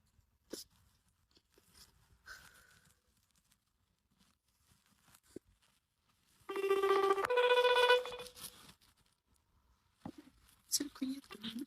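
A telephone rings in a short burst of bright, tonal electronic chimes in the middle of an otherwise quiet indoor room, framed by faint handling noises and a voice speaking before and after.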